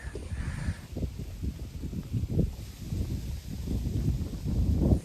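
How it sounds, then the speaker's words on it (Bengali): Strong wind on a hilltop at Dawaipani, Darjeeling, buffets the microphone in steady low rumbling gusts, with no voices. "বাপরে কি হাওয়া হচ্ছে, মনে হচ্ছে ঝড় আসবে এখনই"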